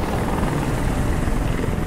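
Helicopter in the video game Detroit Become Human, a steady loud rotor drone with broadband wash filling the whole moment, no voices over it.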